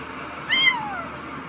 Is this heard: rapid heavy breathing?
no